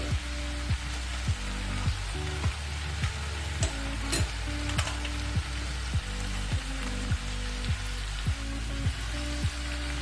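Ginger garlic paste sizzles in a hot pan of beans and potato, a soft steady frying crackle punctuated by regular sharp taps of a spoon stirring against the pan.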